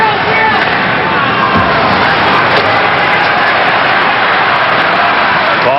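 Hockey crowd at an Edmonton Oilers home game against the Winnipeg Jets, a loud, continuous roar of arena cheering and babble that swells and holds throughout.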